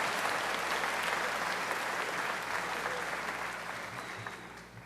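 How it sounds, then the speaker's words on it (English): Audience applause at a high school academy awards ceremony honoring seniors, a dense steady roar of many hands clapping that tapers off slightly toward the end. "We'll give him a round of applause."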